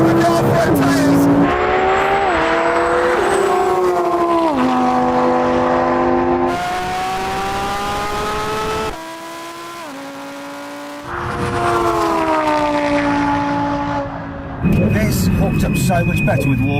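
A Lamborghini Huracan and a Porsche 911 GT3 RS launch side by side in a drag race, engines roaring loudly and climbing through several gear shifts, with tire noise and people talking over the racket.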